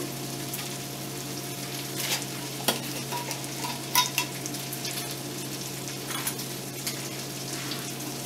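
Potatoes fry in butter over very low heat while a utensil stirs them now and then, giving a steady soft sizzle with a few light scraping clicks; no one speaks.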